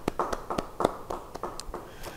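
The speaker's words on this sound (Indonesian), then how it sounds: "beri tepuk tangan bagi dia" A church congregation claps for a congregant, a run of sharp, fairly close hand claps in an uneven rhythm that thins out toward the end.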